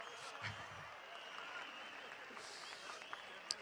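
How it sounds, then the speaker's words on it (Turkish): Rally crowd in an open square applauding, a faint, distant wash of clapping with a few louder sharp spikes and a low thump near the start. "Alkışlar, alkışlar, alkışlar."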